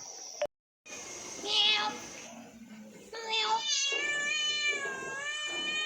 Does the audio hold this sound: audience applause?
no